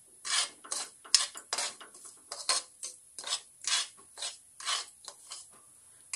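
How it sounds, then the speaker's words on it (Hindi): A grated carrot mixture is stirred and roasted in a pan, with a spoon scraping in regular rasping strokes, about a dozen close, even rubs in steady rhythm. "तो बस इसे भून लेते हैं लगातार चलाते हुए।"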